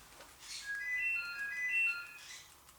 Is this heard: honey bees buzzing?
no